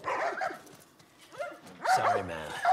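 Dogs barking and whimpering in The Last of Us, a few close yelps and barks in bursts between quieter moments, with harmonic tonal cries near the end.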